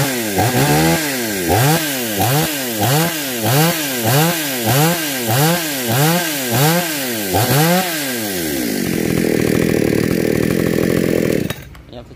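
A Kavi G750 gasoline chainsaw runs up close and loud, revving in a steady rhythm of about a dozen rising and falling surges before holding at high speed, then cutting off abruptly.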